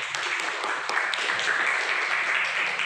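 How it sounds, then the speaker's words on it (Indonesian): Classroom audience applauding a student group after a presentation, a steady, even patter of clapping that fills the short stretch without a break. "Beri tepuk tangan Prof untuk kelompok 4."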